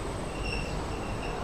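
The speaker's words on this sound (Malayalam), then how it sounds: "ഇനി 2 മണി വരെ നമുക്ക് ഈ ട്രെയിനിൽ ഇങ്ങനെ പോകട്ടെ" A passenger train running from Madurai to Thanjavur in India, heard as a steady, continuous rumble of carriage and track noise from inside, with no talk.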